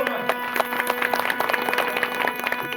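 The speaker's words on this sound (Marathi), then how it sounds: "एकदा त्यांच्यासाठी टाळ्या वाजवा" Audience applause at a devotional Ram bhajan gathering in Shiur, Latur, a steady patter of many hands clapping over faint held musical tones, continuing without pause.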